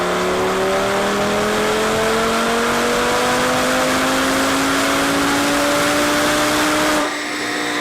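An Audi TT RS on a dynamometer pull, its engine revving loud and close with a steadily rising pitch for several seconds before cutting off abruptly near the end. No talking.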